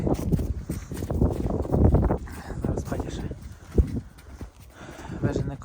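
Hooves of a mare clop on the ground as she is led in on a farm with horses, the steps mixed under close men's conversation and some wind noise.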